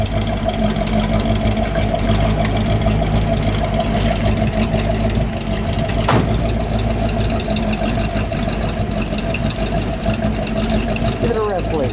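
Steady idle of a 1956 Oldsmobile 98 Starfire convertible V8 engine, running continuously at close range with only a brief swell partway through, while people talk nearby.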